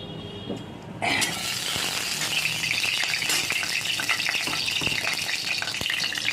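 Potato and green banana pieces hitting hot oil in a wok burst into a loud crackling sizzle after a quiet start, with stirring clatter and scraping continuing close by.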